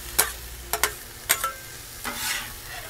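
Ground beef frying on a flat top griddle while a spatula chops it, giving several sharp scraping clicks over a low steady sizzle.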